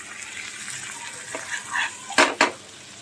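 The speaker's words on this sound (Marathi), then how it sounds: "अशी फिरवून व ती सगळी पावभाजी आपण त्या भाजीत टाकायची" Pav bhaji being stirred into a tadka in a pan, with soft scraping and sizzling, then two sharp clatters of the spoon against the pan near the end.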